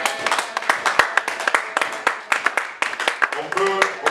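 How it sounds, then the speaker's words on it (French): A church congregation breaks into lively applause, dense rapid clapping from many hands that rises and falls in bursts, with cheering voices mixed in. "Ah, on acclame cette parole"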